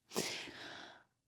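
A single short, breathy sneeze bursts out close and fairly quiet, then trails off in a hiss within about a second.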